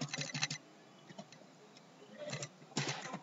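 Code being typed on a computer keyboard, quick clusters of light key clicks separated by pauses, close and quiet.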